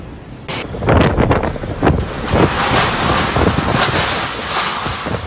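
Strong typhoon Krathon winds roar through Kaohsiung, Taiwan, as a loud continuous buffeting rush hitting the microphone, with gusting surges and heavy broadband turbulence throughout.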